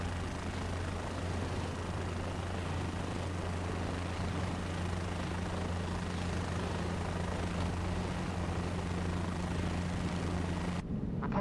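A helicopter in Microsoft Flight Simulator 2024 gives a steady low rotor and turbine drone, continuous and even in loudness, cutting off abruptly at the end.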